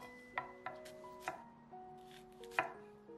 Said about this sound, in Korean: 쪽파는 총총 썰어 주세요.